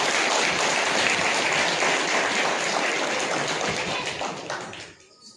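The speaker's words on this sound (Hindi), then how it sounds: "जोरदार तालियां।" Loud, dense applause from a crowd at an 86th foundation day ceremony of a veterans' organisation in Haldwani, sustained for several seconds before tapering off abruptly at the end.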